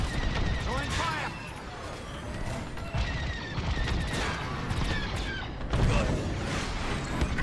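Starfighter weapons fire in the video game Star Wars Squadrons, a busy stream of rapid laser blasts and crackling impacts with game effects layered over it, continuous and fairly loud throughout.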